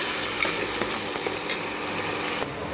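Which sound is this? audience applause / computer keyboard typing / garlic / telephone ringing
garlic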